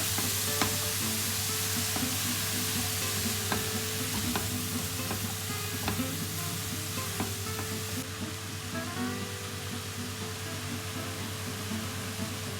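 Carrot halwa being stirred in a pan over a medium flame, a steady low sizzle running throughout with scraping strokes of the spoon repeating at a fairly even pace, close and moderately quiet, with no talking.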